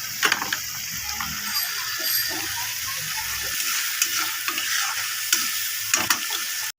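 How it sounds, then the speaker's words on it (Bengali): Spice masala with turmeric and chopped tomato is stirred and fried in a pan, giving a steady close sizzle with repeated scraping and clinking strokes of the spoon, alone with no talking. "মশলাটাকে ভালো করে কষিয়ে নেব।"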